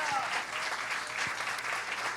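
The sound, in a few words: congregation applause in church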